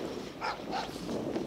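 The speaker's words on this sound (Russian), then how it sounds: "Собаки лают." A few distant dog barks, two or three short yaps spaced apart, over steady outdoor background noise.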